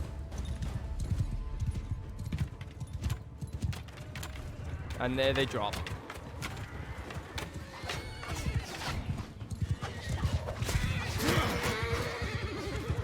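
Horse archers galloping in Bannerlord, with hooves drumming and horses neighing and whinnying amid the clatter of battle, while someone talks over the action throughout.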